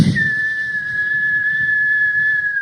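A single sharp whistle blast is held steadily for a couple of seconds as a signal, clear and loud against a quiet background.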